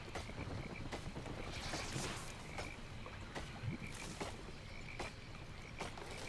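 Frogs croaking in the Albion Online fantasy game, faint rhythmic croaks repeating at roughly regular intervals over a soft ambient background of water and breeze.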